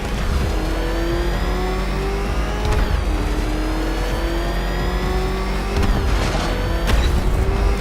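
Batmobile engine in Batman Arkham Knight revving hard and continuously, loud and close, with rising and falling pitch sweeps over a constant roaring rumble and a few heavier thumps.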